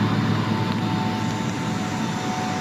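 Steady, even machine hum and broadband hiss from an Ingersoll Rand 75 kW variable-frequency screw compressor system with air dryer, running without change for the whole stretch, with a faint constant tone above the roar.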